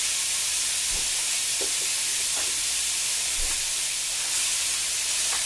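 Minced garlic sizzles steadily in a pot for red beans, a constant loud hiss of frying with a few soft clinks and stirring knocks.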